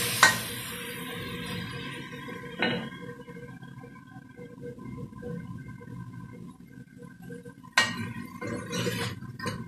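Onion sautéing in oil in a pan for Peruvian carapulcra: a steady soft sizzle fills the background, broken by a few sharp utensil clinks and stirring scrapes, with no talking.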